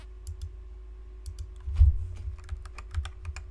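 Computer keyboard keys pressed in irregular bursts, crisp close clicks with one heavier thump midway, the taps sparse at first and then quicker.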